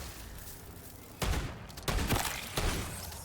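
A shotgun blasts at zombies in MW3 Zombies, three heavy booming shots spaced roughly evenly over a few seconds, close and loud over a rumbling game background.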